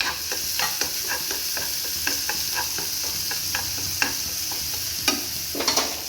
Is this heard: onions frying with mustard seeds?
yes